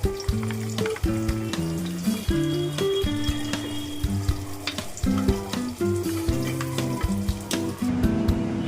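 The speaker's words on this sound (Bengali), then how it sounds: "মাছটা ভাজা হচ্ছে ততক্ষণ।" Bata fish frying in hot oil, a steady sizzle and crackle running beneath continuous background music for the whole stretch.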